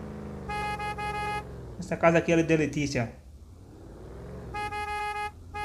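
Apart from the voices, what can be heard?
car horn honking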